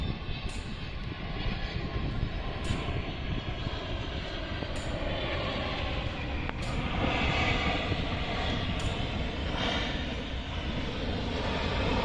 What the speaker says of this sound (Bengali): এই বিমানটি এখন ঢাকার এয়ারপোর্টে অবতরণের জন্য এগিয়ে আসে